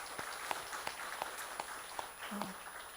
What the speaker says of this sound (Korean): 우리 하나님께 감사의 박수로 영광을 돌리도록 하겠습니다.